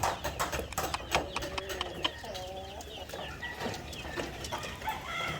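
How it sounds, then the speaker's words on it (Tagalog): White leghorn chicks and leghorn crosses in a brooder, a steady chorus of high cheeping and peeping from many birds close by, continuous over a low background hum. "Mga mga white leghorn, may white leghorn crosses at yung ibang lahi natin."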